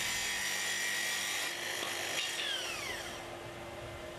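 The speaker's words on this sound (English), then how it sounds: "Now release the stop and make the full depth cut." A Festool SP6000 track saw running on its guide rail makes a full depth cut through veneered board, a steady high whine that is fairly quiet and sounds alone before it slowly tapers.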